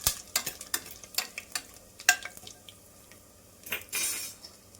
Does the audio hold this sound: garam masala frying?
yes